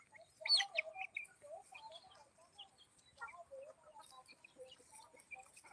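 Free-range country chickens cluck and chirp softly at a distance while feeding on a dung heap, a scattered chorus of short calls with bird tweets mixed in, no talking.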